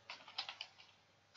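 Keystrokes on a computer keyboard typing a git clone command into a console, a quick run of light close clicks with short gaps and a sharper final key press, no voices.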